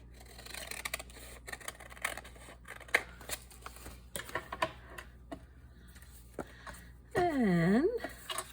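Scissors trim paper for a paper bag journal, giving soft, quick snips and rustles close by, then a louder sliding scrape near the end, over a faint background hum.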